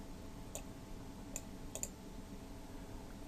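A few sharp, quiet mouse clicks on a computer, three or four isolated ticks spaced unevenly over a faint steady background hiss, with no talking.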